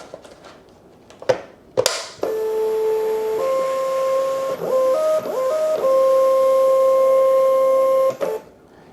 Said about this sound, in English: So once I load the printer, the auto size detection is gonna kick in.